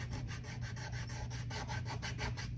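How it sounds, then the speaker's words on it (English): Hand sanding with sandpaper, a rhythmic back-and-forth rasping rub in quick regular strokes, close and steady, with a low hum underneath. "let's grab some sandpaper"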